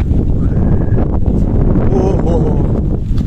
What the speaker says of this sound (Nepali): यो हावा चाहिँ मजाको हो क्या हामीलाई